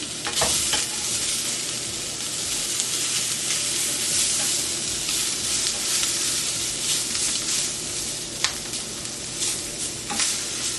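A salmon fillet pan-fries until caramelized, giving a steady close sizzle with scattered sharp pops and spits and no talking.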